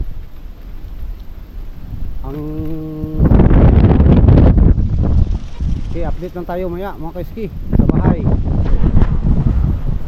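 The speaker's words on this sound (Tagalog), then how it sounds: "uwi na kami mga kaiski dahil sobrang lakas ng hangin" Strong wind buffets the microphone at the seaside, a loud continuous roar and rumble that swells and gusts throughout, with people talking over it and a large ship nearby.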